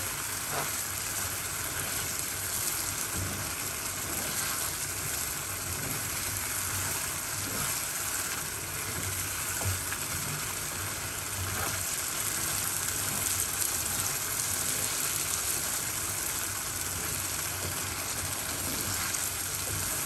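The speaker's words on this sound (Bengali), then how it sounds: "এখন ভালো করে সাঁতলে নেবো একদম মশলাগুলো" Spices for ghugni sauté in oil in a pan after the lid has been lifted, giving a continuous, even sizzle and crackle at close range for the whole stretch, with no talk.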